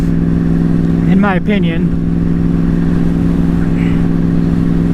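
A sport bike's engine drones steadily and close while riding, a constant mid-pitched hum running under a brief stretch of someone talking.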